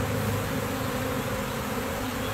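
Honey bees swarm closely around a person, making a dense, loud, continuous buzzing that fills every moment without pause.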